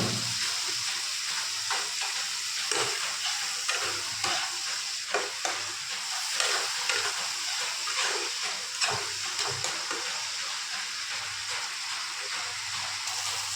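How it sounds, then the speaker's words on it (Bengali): Bengali masala paste of ground spices, loosened with a splash of water, sizzles and hisses steadily in a pan while a spoon stirs and scrapes with irregular clacks, close and even in level, with no talk. "একটু অল্প করে জল দিয়ে কষাবো"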